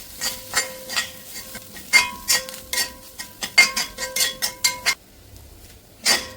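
Onion and grated coconut sautéed in a pan for a Kerala parippu (lentil) fry, heard as a run of sharp, close spatula scrapes and clinks against the metal in an irregular rhythm over a faint sizzle, pausing briefly near the end.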